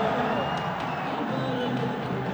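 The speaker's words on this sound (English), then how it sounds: "Appreciation from his teammates. The crowd are delighted." Dense, continuous cheering and applause from a cricket stadium crowd at a BPL T20 match, Dhaka Capitals against Chittagong Kings, greeting a batsman's fifty, loud and unbroken across the short stretch.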